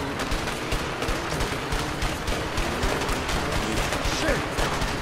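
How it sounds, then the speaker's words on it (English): In the video game A Way Out, a jeep-mounted machine gun fires dense rapid bursts of gunfire, loud and continuous over other game noise. "They've got a machine gun on the back of that Jeep!"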